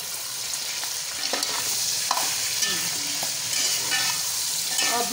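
Garlic, ginger paste and tomato fry steadily in a pan, with a constant sizzle and repeated scraping stir strokes from a spoon, close and fairly loud, with no talking.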